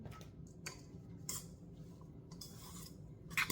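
Soft scraping and light clinking of a spoon working through a thick cheese and semolina mixture for syrniki in a bowl, with intermittent strokes, quiet and close.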